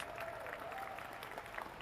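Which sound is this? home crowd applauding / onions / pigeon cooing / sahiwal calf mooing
home crowd applauding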